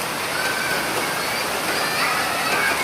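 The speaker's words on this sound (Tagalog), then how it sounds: "Walang tigil ang ulan dito araw at gabi" Heavy rain falls nonstop in the provincial countryside during the rainy season, a steady, dense hiss of water pouring down nearby, unbroken and fairly loud.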